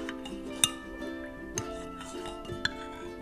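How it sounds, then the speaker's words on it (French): A spoon stirs golden milk in a cup, giving three sharp clinks against the side spread over a few seconds, close and clear over a faint steady background. "Donc je vais tremper dans mon lait et bien mélanger."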